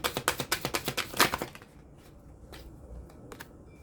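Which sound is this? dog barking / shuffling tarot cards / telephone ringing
shuffling tarot cards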